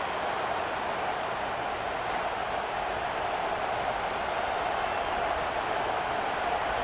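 Stadium crowd in College Football 26 roaring steadily during a Missouri at Texas A&M field goal attempt, a dense continuous wash of cheering with no breaks.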